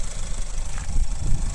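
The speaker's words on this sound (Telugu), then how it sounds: "ఇంజన్ మాత్రం స్మూత్ సైలెంట్ ఉంది." Maruti Suzuki Ertiga VXI CNG, a 2022 taxi-plate car, idling with a steady, smooth low engine hum that holds at an even level, close by, with no talk over it.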